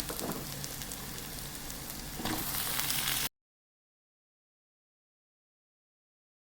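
Tomatoes and grated coconut fry in a hot pan, giving a steady, close sizzle for about three seconds that swells briefly before cutting to silence.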